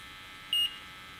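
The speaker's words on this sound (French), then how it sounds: "la sonnerie qu'on entend ici est l'alarme numéro 2" A portable gas detector monitoring methane as a percentage of the lower explosive limit sounds its number 2 alarm: a single short, high electronic beep over a steady faint hiss.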